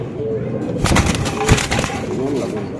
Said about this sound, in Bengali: এটা একটা বুদাপেস্ট কবুতর দেখতে পাচ্ছেন